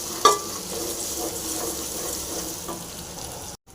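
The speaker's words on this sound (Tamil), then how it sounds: "வெங்காயம் நல்லா ஃப்ரை ஆகிட்டு வருதுங்க." Onions with salt fry in a pressure cooker, giving a close, steady sizzle with a few stirring scrapes, then cutting off abruptly near the end; no one speaks.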